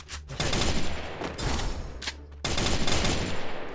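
Rapid automatic gunfire in the Free Fire video game, loud sustained bursts of shots with a brief pause before firing resumes.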